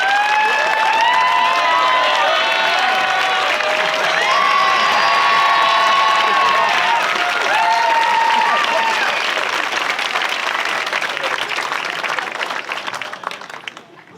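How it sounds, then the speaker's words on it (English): Loud, sustained applause and cheering from a convention crowd honoring an auxiliary bishop, with voices shouting and whooping over the clapping throughout, fading slightly at the end. "The results show that he got more applause than I did."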